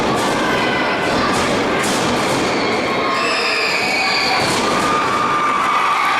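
A wrestling crowd in Palatka roars at a tag-team match, a steady wall of cheering and shouting that fills the hall without a break, loud and close throughout.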